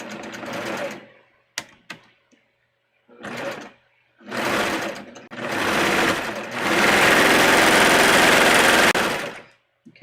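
A sewing machine stitches swimsuit fabric in several bursts of whirring, short runs at first and then one longer steady stretch of stitching near the end.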